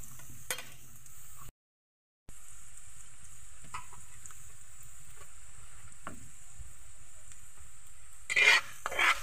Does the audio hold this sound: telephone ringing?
no